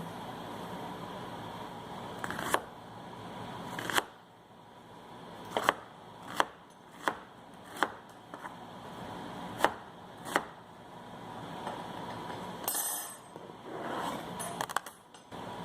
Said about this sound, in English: We're going to chop it nice and big.